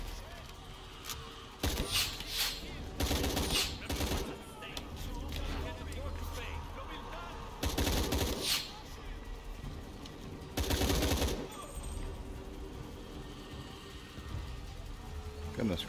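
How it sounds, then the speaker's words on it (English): Gunfire in Shadow of the Tomb Raider comes in several loud, separate bursts at about 2, 4, 8 and 11 seconds, with quieter game ambience between them. "What's shooting at me?"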